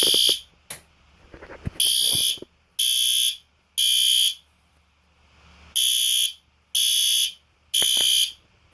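A fire alarm sounds during a test, blaring loud, harsh electronic tone bursts in a rhythmic on-off pattern with brief quiet gaps and a few soft background thuds.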